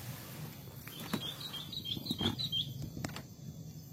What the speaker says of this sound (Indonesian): Suara burungnya rame ya.